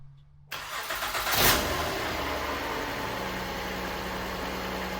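A Honda 2.4-litre K24 engine with 252,000 miles starts and settles into a steady idle in a garage, with a continuous whine from a worn, howling belt tensioner carrying alongside the engine hum.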